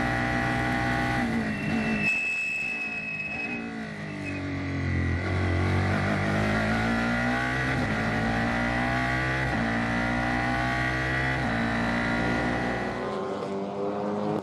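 Formula 4 race cars at Circuit of the Americas, with high engines revving and shifting through gears as several cars pass close by, the sound continuous and loud throughout.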